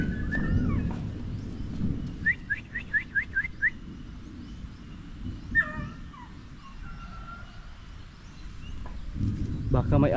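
A dog barks in a quick run of short, sharp yaps at moderate distance, followed later by a couple more scattered calls over a low background rustle.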